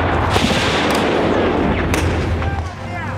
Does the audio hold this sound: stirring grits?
no